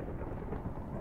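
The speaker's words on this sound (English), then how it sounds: "Why did I just hear lightning strike 4 times?" Thunder from lightning strikes in Minecraft, a dense low rolling rumble with crackling texture that fills the whole brief moment at an even, loud level.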